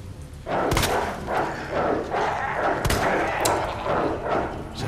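Pistol shots in Resident Evil 2 Remake, two sharp loud cracks a couple of seconds apart over rhythmic thudding game noise, with growling dogs mixed into the background.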